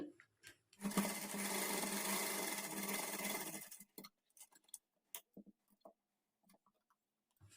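A domestic sewing machine runs in one steady burst of about three seconds while stitching a blouse sleeve, followed by scattered clicks and small handling noises in a quiet room.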